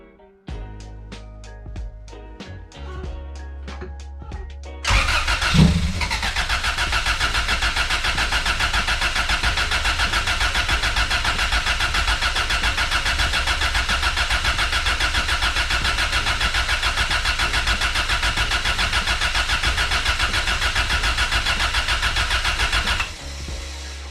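A Honda CRX's B17 engine is cranked over by its starter with the fuel injectors cut. After some light ticking, a loud, steady, even whir of cranking runs without a break for about eighteen seconds and then stops.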